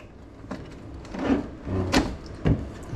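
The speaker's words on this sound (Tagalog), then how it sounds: "dilipat ko yung gamit ko dito sa drawer" A hotel room drawer sliding open and shut, heard close as several scraping wooden rumbles and knocks over faint room noise, with no voices.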